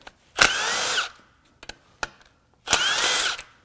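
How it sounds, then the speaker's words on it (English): A power tool unbolts the timing chain tensioner on a Jeep 2.0L turbo Hurricane engine during a teardown, with two loud whirring bursts of about half a second each and a few sharp clicks between them, all close up. "the first thing we're going to do is unbolt the tensioner"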